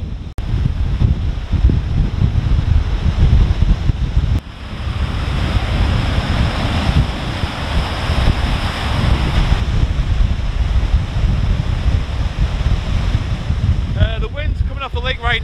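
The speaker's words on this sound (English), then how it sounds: "Right now at about 80 kilometers an hour, and the waves are pretty good." A fall storm drives loud surf and roaring wind of about 80 km/h across Lake Erie. Waves crash continuously while gusts buffet the microphone hard throughout.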